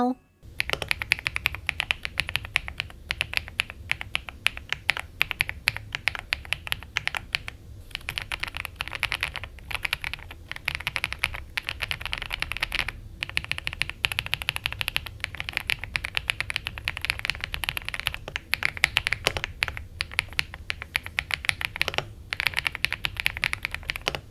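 An AJAZZ AK820 Max mechanical keyboard with an LCD screen, in the Foodie colorway, is typed on continuously, giving a dense run of close, crisp key clacks with brief pauses between bursts.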